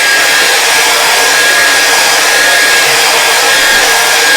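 A hair dryer blows on wet paint during a landscape painting lesson, a loud, constant close-up whoosh with a thin whine, unbroken from start to finish and heard alone.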